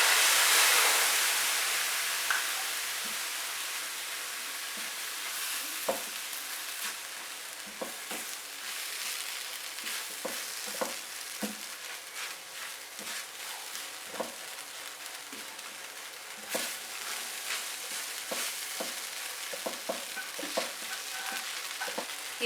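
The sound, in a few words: stirring and frying bread patty filling in a pan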